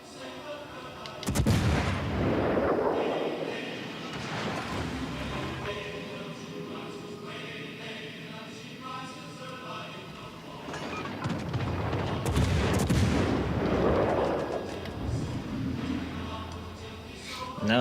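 Naval gunfire in the World of Warships: Legends game, with two heavy booming salvos roughly ten seconds apart, each rumbling and fading, over a steady bed of battle ambience and engine noise.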